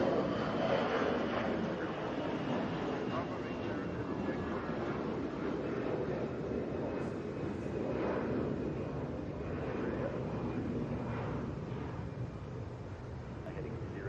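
A Boeing 757 jet airliner at Atlanta airport gives off a steady, broad, moderately loud roar that holds for the whole stretch and eases slightly toward the end.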